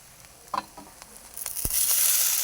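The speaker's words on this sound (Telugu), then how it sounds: "ఇప్పుడు ఇది వేయించుకుంటున్నాం కదా" Manchurian balls fry in a pan, a few close clicks and a sharp knock on the pan before a rising, steady hiss of hot oil takes over.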